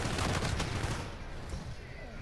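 Rapid gunfire from Call of Duty: Infinite Warfare, a dense burst of shots that fades after about a second with a quieter tail, loud and close with a game soundtrack behind.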